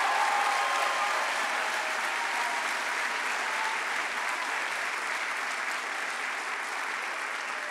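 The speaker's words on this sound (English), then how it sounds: "Let's give them one last round of applause" An audience applauds honorees at a school district recognition ceremony, steady dense clapping that holds at a fairly even level throughout, with no voices over it.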